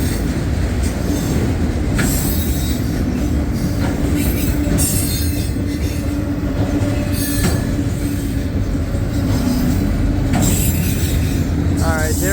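CSX autorack freight train with Conrail autoracks and hoppers rolling eastbound through Homestead, slowing; a loud, steady close rumble of wheels on rail with clanking cars and occasional wheel squeal throughout.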